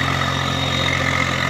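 A tractor engine runs near the road, pulling an overloaded trolley of bricks, a loud, steady low rumble with constant mechanical drone and no break.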